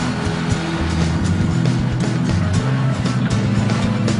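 All-wheel-drive Nissan Rogue struggling on a dusty hill, its engine roaring steadily as the far-side wheels spin without grip, a loud, continuous drone with no talk.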